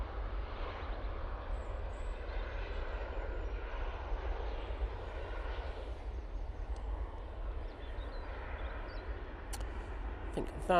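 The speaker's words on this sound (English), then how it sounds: "Ethiopian A350-900 now arriving." An Ethiopian Airlines Airbus A350-900 arriving to land, a steady distant jet rumble and broad whoosh that holds throughout, with faint talk underneath.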